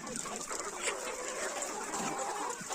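A flock of around 500 free-range chickens clucks continuously at close range, overlapping calls forming a busy, steady chatter.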